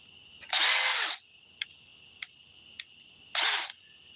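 A brand-new DeWalt 801 power drill whirs in two short bursts, each under a second long, separated by a few faint clicks with quiet in between, close and alone without talk.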